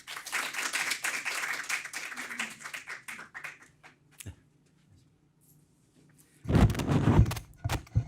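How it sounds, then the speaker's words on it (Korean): An audience at a lecture on Fukushima treated water claps to welcome a Kyung Hee University nuclear engineering professor. The applause is full at first, thins out and fades to quiet, and then a loud bumping thud follows near the end. "큰 박수로 맞이하여 주시기 바랍니다"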